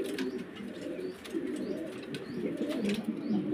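Pigeons coo steadily at close range in a loft of pigeons kept for sale, soft repeated throaty calls overlapping one another over a faint background hum, with no talking.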